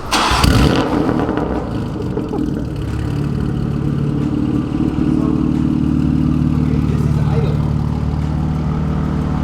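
BMW G80 M3 with an Active Autowerke midpipe idling, a loud, deep, steady engine rumble close by after a brief start-up burst, with someone talking over it.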